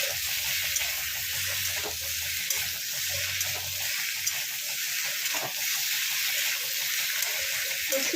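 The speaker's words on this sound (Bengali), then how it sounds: "এবার এটার সঙ্গে ভালো করে এটাকে কষবো।" Egg curry with potatoes frying in a pan gives a steady, close sizzle with faint scraping of stirring throughout, with no voices.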